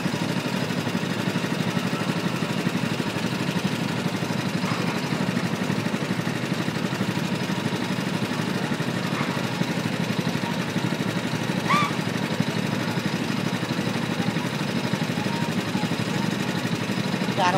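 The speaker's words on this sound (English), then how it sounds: "Hey Ron, a Humvee, we're going to war." A Humvee engine idling with a steady, low, throbbing rumble that holds constant for the whole stretch, close and moderately loud, with a few faint sharp chirps above it.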